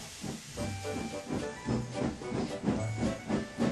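A narrow-gauge steam engine sets off with its coaches. Loud, close steam hissing is broken by a steady rhythm of chuffing pulses that continues throughout.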